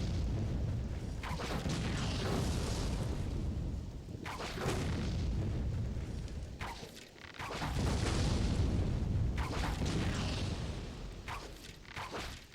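Uruk-hai sappers blowing up in The Two Towers video game, with heavy, booming blasts and rumbling bursts recurring every few seconds, loud and close, with whooshing game effects between them.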